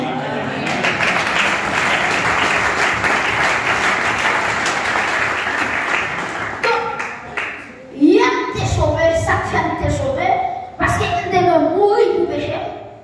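Church congregation applauding and cheering for Jesus, loud dense clapping that runs steadily for several seconds, then breaks into scattered claps, shouts and voices with a preacher speaking among them.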